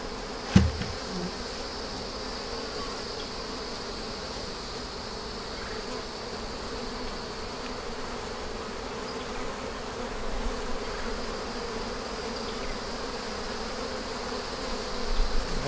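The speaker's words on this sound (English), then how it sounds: "Okay, now, get these bees off of here." Honey bees hum in a steady, soft, continuous buzz around a hive frame as honey is pulled, with no talking.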